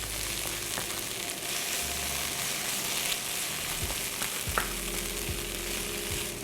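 Onion with ginger garlic frying in a pan for tandoori chicken curry, a steady close sizzle with faint stirring scrapes and occasional soft clinks throughout, no talking.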